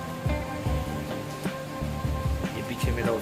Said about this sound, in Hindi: अभी एकदम बारिश हुई है, कुछ हल्की हो गई है